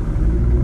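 Chevrolet Corvette engine revving at low RPM during a launch inside a garage, a steady loud low rumble with tire spin, no talk.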